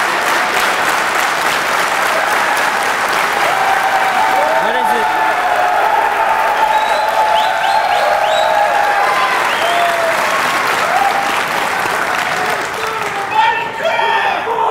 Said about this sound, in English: What's the clapping for?